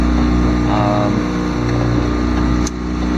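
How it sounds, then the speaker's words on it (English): Inboard engine of a cruising sailboat motoring east near the mouth of the Connecticut River, a steady loud low drone with constant hum and water rush, holding even for the whole stretch with a brief dip near the end. "we started the engine and we are motoring east"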